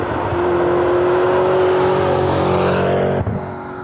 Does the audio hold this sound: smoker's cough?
no